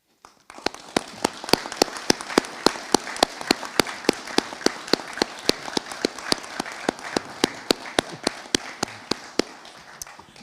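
Audience applause at an Army ROTC commissioning ceremony for new second lieutenants, a steady crowd of claps with a few sharp, loud, close claps ringing out regularly above the rest for about ten seconds.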